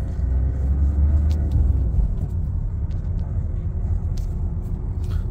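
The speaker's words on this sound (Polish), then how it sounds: "Przejedziemy parę kilometrów, żebyście zobaczyli, jak samochód zachowuje się" A Peugeot 2008 with the 1.6 BlueHDi diesel rolls along the road, its low rumble and tyre noise steady from inside the cabin, with faint small knocks and no speech.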